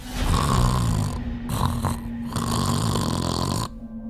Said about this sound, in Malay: Saya terperanjat kerana terdengar bunyi orang tidur, berdengkur